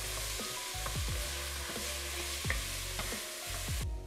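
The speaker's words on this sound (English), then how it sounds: "our peppers, we have our olive oil, our peppers, our onion, we're gonna saute this up" Peppers and onion sautéing in olive oil for jambalaya, a steady low sizzle with a low hum beneath and a few scraping stirs of a utensil across the pan.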